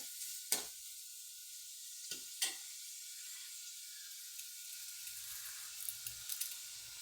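Pounded ginger, coriander, cumin and onion fry quietly in a pan, a soft steady sizzle with a few sharp crackles and spits early on, no voices.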